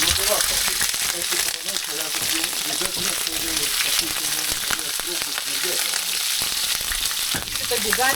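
Food sizzles and fries in a large pan aboard a boat anchored off La Graciosa, with a steady close crackle and hiss and occasional stirring and clinking.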